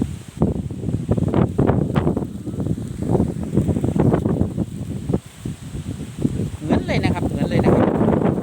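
Strong wind gusts roar across an open roadside outdoors, a steady broadband rush with rustling that runs continuously under someone talking throughout.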